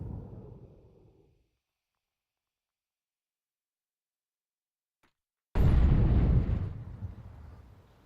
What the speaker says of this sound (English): Venom Zera going to check and clear with the flashbang